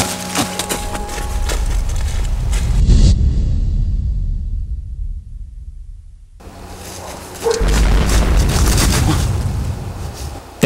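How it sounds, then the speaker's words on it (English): An explosion goes off in a live-action horror skit based on the Granny game. A loud rumbling roar cuts out into near silence, then a second heavy blast bursts in and keeps booming and rumbling. "That was an explosion."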